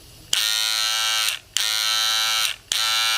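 A rotary motor tattoo machine runs loudly in three bursts of steady, high-pitched electric buzzing, each starting and stopping abruptly with short silent gaps between, close up and with no talking.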